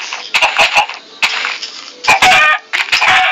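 Video game chickens cluck in a run of short, sharp bursts, close and fairly loud, with brief gaps between the clucks.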